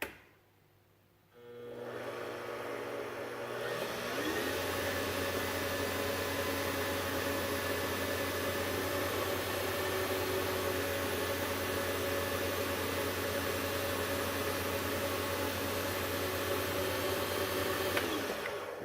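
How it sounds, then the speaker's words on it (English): A wood lathe spins a slimline pen for buffing, starting at low speed. After a short silence it settles into a steady motor hum and whine that holds evenly, with no talk. "turn my lathe as slow as it can go to start with, and just kind of buff it out a little bit"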